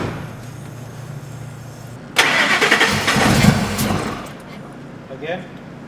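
A car engine cranking but failing to start after a new fuel pump install: about two seconds of rough, close starter churning rises out of a low hum and then dies away. Voices are heard around it.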